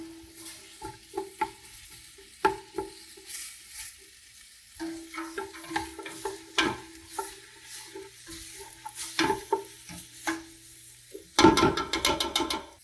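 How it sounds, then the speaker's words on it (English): Onions sauté in a seasoned pan for homemade meatballs and sausage: soft sizzling under a spoon's irregular scraping and clinking stirs, with a brighter burst of sizzle near the end and no talking. "You want to saute them and get them transparent."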